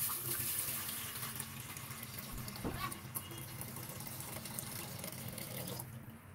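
Water gushes steadily from a tap into a cooking pot, a constant rushing splash that runs for several seconds without a break.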